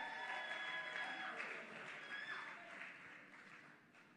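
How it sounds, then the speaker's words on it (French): Applause from an audience at the final of the Maajabu Rafiki contest, steady broadband clapping filling the room for several seconds and slowly thinning, with faint crowd noise underneath. "Est-ce qu'on peut encore applaudir une fois pour Merdivi Moukoko?"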